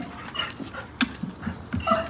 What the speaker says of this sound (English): this dog does not normally make this sound when I get home